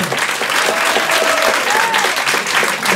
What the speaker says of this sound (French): ce soir, sous vos applaudissements, nous recevrons Benjo, Antoine Santac,